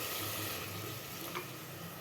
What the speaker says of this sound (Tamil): இப்போ தண்ணி ஊற்றிடலாம்.